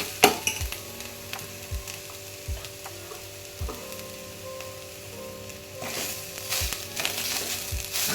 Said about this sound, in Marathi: खोबऱ्याचा किस घालून चांगलं असं मिक्स करून घ्यायचं आहे आपल्याला